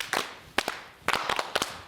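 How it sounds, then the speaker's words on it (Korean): Participants in a dementia-prevention exercise class clap five times on cue, the beats slightly ragged so each hit smears into doubled cracks, close and crisp with quiet gaps between. "박수 5번 시작."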